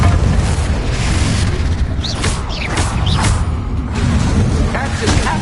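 The Confringo blasting spell in Hogwarts Legacy sets off loud, continuous explosive booms and crackling magic bursts amid chaotic combat, with a few whooshing spell sounds over the rumble.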